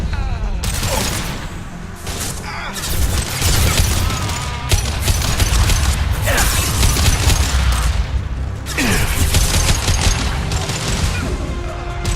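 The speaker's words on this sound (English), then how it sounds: "Firing an impact shot!" Impact-shot gunfire in the sci-fi shooter Mass Effect 2: a dense, loud barrage of booming shots and sharp crashes, nearly continuous over twelve seconds with brief lulls, under a busy battle mix.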